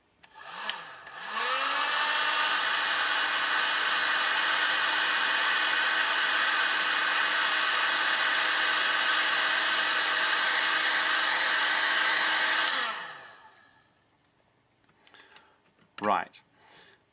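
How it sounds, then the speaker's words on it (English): An old paint stripper heat gun shrinks heat-shrink tubing over crimped connectors, blowing a loud, steady roar with a whining tone for about eleven seconds. It spins down to quiet, then a brief clunk follows. "I happen to have an old paint stripper gun which I use."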